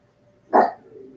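A single sharp dog bark, loud and close, aimed at dogs across the street, with a short fading tail and no talk.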